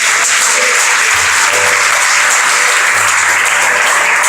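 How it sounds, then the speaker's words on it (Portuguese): Church congregation at an evening service claps loudly and densely for a few seconds, continuous applause with faint voices beneath it. "Quantos podem aplaudir Jesus aí bem forte, vai?"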